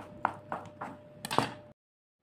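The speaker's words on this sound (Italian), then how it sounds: "Affettate la mozzarella a fior di latte" A knife cuts through fior di latte mozzarella for baked eggplant rolls, giving four soft, separate chopping taps at a steady pace on a board before the sound stops.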